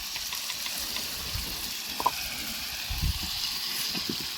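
Tomatoes frying in hot oil in a pan, a steady soft sizzle with a few faint clinks and stirring sounds, no talking.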